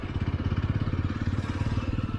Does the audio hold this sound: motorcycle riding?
yes